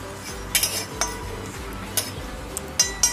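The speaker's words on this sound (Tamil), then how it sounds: "இதுக்கப்புறம் துவரம் பருப்பு ட்ரை ரோஸ்ட் பண்ணிக்கலாம்." A spoon stirs toor dal as it dry roasts in a pan, giving a few scattered metallic clinks and scrapes over a steady low background hum, close up and without speech.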